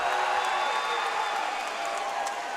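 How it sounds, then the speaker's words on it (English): Crowd applause and cheering for fighter Jacob Highley at a Synergy FC 8 fight event, a dense, steady wash of clapping and whoops lasting the whole moment. "let's give a round of applause for Jacob Wildman Highley"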